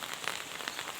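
Rain falls steadily in a rural setting where ducks roam, a soft, even patter of drops on surfaces, faint and unbroken.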